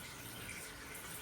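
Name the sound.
warm water running from a tap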